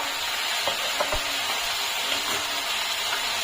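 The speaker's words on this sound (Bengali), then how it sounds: "এর মধ্যে এবার দেবো দু তিনটে কাঁচা লঙ্কা" Green chillies go into a pan of fourteen leafy greens frying in oil, a soft continuous sizzle with a few light stirring clatters and knocks, close and fairly quiet.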